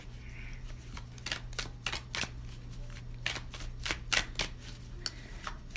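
Light Oracle and Gaia Oracle cards shuffled by hand in a quiet room, a rapid series of crisp riffling slaps and flicks arriving in irregular bursts, close and clear.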